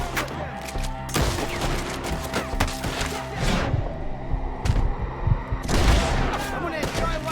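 Heavy gunfire in a shooting video game, with bursts and scattered shots rattling over a busy, loud battle soundscape with deep booms throughout.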